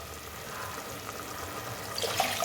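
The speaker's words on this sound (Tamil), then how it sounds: "இன்னொரு கப்பில் வந்து ஒரு 1/4 கப்பு தண்ணி ஊற்றிடுவோம்." Water pours steadily into a cooking pot with a soft, continuous splashing that grows a little brighter and louder toward the end.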